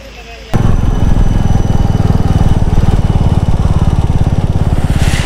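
A motorcycle engine fires up and keeps running loud and close during a ride on the road from Guwahati to Bomdila, with a rapid, pulsing throb that holds steady throughout.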